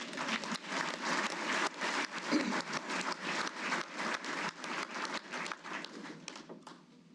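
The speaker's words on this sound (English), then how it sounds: "Round of applause, please." Steady clapping from an audience at a Defense Logistics Agency Hall of Fame ceremony, a moderately loud, even round of applause lasting several seconds before tapering off.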